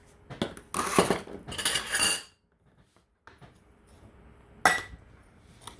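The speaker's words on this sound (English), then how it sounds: "I'm just gonna give that a good stir" A baklava mixture is stirred in a bowl with a utensil, producing bursts of clinking and scraping against the sides, then a pause and one more sharp scrape; no one speaks.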